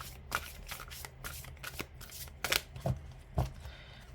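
Tarot cards being laid face down and covered during a reading, with a run of soft papery slides and several sharper card flicks and slaps near the end, close and quiet.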